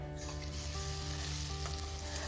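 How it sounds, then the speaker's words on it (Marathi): Finely chopped onions sauté in a cumin and mustard seed tempering, giving a strong, even sizzle and crackle up close that runs throughout without any speech. "मस्तपैकी जिरे मोहरीची फोडणी द्या आणि त्यामध्ये दोन कांदे बारीक चिरून व्यवस्थित परतून घ्या"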